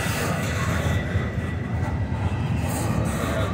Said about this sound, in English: Track 2, which is the track the train is on